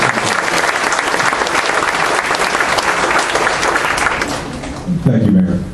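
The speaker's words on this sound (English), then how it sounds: "so big round of applause," Loud, dense applause from a large crowd at a public meeting with a mayor, honoring the deputy mayor, sustained for about five seconds before fading as a voice begins to speak.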